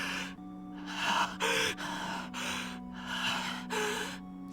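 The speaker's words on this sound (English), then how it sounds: "He arrives at the place breathing heavily." Heavy, uneven breathing from Shinji arriving in the visual novel Fate/Stay Night, a run of about seven loud gasping breaths in steady rhythm over a low constant hum, with no talk.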